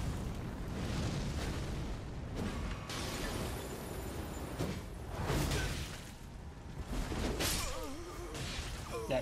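A bomb explodes in an arena video game, heard as fairly faint bursts of crashing, shattering noise and whooshes repeating across the scene, with little talk over it.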